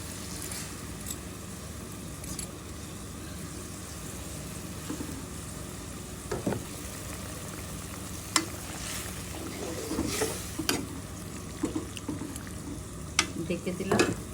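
Meni fish cooking with yogurt in a pan for a vuna curry hiss in a low, steady sizzle, broken by scattered utensil clinks and scrapes that grow busier toward the end.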